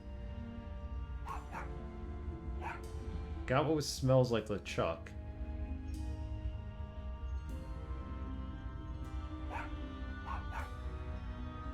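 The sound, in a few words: dog barking in video game Tales of Monkey Island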